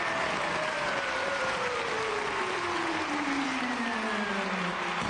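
A crowd at a children's stage show applauds in a constant hiss of clapping that holds steady throughout, with a faint descending tone sliding beneath it.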